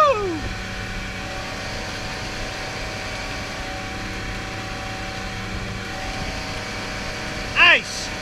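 A 1998 Four Winns 180 Horizon RS boat runs at speed with its engine droning steadily under wind and water noise, loud and close throughout, with a brief sharp sound near the end.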